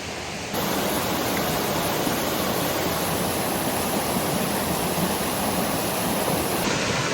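A creek waterfall drop pours heavily, its dense, steady roar of rushing water filling the scene from near to far without a break, loud and broadband throughout.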